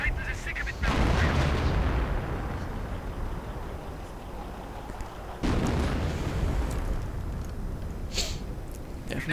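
Artillery fire in a 1v1 real-time strategy game, heard as two heavy booming barrages with long rumbling tails, loud and close, followed by a few sharper distant shots.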